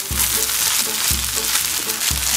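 Fried rice sizzles loudly in a hot pan as soy sauce scorches, with a rhythmic knock of tossing or stirring about once per second.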